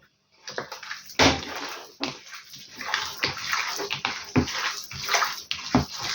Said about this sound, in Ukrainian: Я додам сюди 50 грамів водички.